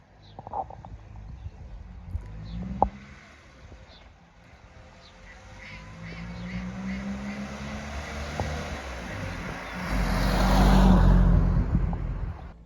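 A Triumph Roadster's engine drones steadily in top gear on country roads, a low continuous hum that swells louder toward the end, with brief clicks and light cabin rattles over it.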